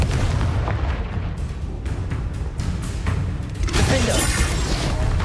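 Confringo fire spell explosions from the video game Hogwarts Legacy burst loudly in repeated booms and crackling blasts, with a dense, sustained roar of spell effects and debris.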